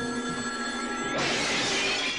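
A telephone rings in the 1983 film Cujo, a steady electronic bell tone that is partly masked by a sudden crash or shatter midway.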